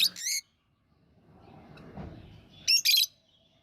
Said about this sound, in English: So you got the birds.